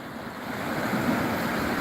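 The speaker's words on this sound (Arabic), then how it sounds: "البحر جميل جميل جدا" Winter sea waves wash onto a beach in a steady, soft rushing wash of surf with some wind noise, continuous and fairly distant, no voices.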